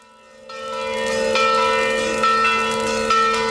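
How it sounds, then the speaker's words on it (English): Church bells in Italy start up after a moment of quiet and swell into a loud, continuous ringing with repeated overlapping strikes. "Soon the church bells ring out"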